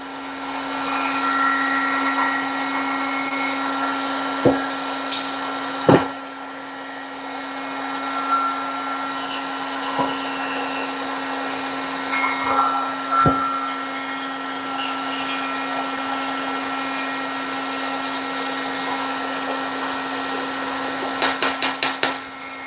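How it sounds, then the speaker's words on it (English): A powder coating spray gun runs continuously with a steady electric hum and airy hiss, interrupted by a few sharp clicks and knocks, close and constant throughout. "So I am powder coating."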